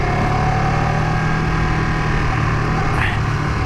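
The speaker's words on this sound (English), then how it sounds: "this is not the stock exhaust sound. I believe we are running an Acropovich slip-on" Ducati 959 Panigale engine fitted with an Akrapovic slip-on exhaust, a steady, continuous drone with a deep low rumble that holds throughout, loud and close, with a faint brief rise near the end.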